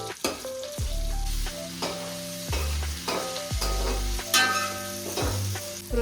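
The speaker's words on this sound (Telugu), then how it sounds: "ఫస్ట్ రొయ్యలు వేసేసుకోవాలి. విరిగిపోకుండా కొంచెం ముందే వేపించుకుంటే విరిగిపోకుండా ఉంటాయి." Prawns frying in a hot pan with curry leaves, a steady sizzle with repeated scraping stirs of a utensil and occasional clinks, close and loud with no talking.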